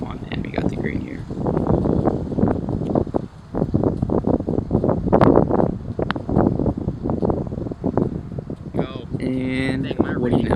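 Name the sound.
wind blowing on a golf course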